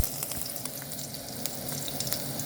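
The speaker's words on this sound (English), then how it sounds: "When the oil gets hot, guys, we are gonna first add our minced garlic." Minced garlic fries in hot oil in a pan with a steady, dense sizzle and crackle. Small pops scatter through it, and it stays fairly quiet and close with no voices.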